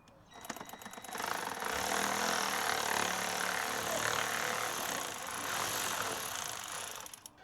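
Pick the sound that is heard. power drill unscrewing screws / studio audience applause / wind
power drill unscrewing screws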